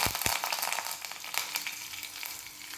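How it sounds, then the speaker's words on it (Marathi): Mustard seeds, cumin, green chillies, sesame seeds and curry leaves crackle and sizzle loudly in hot oil for a dhokla tempering, with a couple of sharp pops at the start over a steady bright hiss. "तेल तापल्यानंतर मोहरी घालायची आहे. मोहरीनंतर जिरे, जिऱ्यानंतर थोडीशी हिरवी मिरची, थोडेसे तीळ आणि कढीपत्ता."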